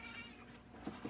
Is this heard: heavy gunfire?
no